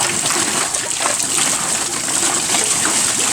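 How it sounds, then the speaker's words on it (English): Loud, continuous splashing and sloshing of water turned by a water wheel on a farm in Hoi An, Vietnam, heard close up as a dense, churning wash without clear talk. "The Sam on the water wheel."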